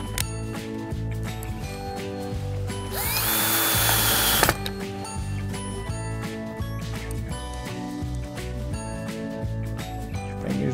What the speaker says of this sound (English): And reinstall our two screws into the frame.